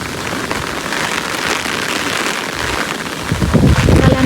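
Heavy rain pours down steadily in the Maldives near someone under an umbrella. Its dense, loud patter fills the whole stretch, and the wind rises toward the end.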